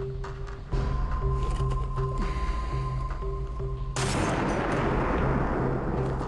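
A Barrett M107 rifle fires one loud, sharp blast that bursts out partway through and rings on, following a stretch of steady background hum and softer range noise.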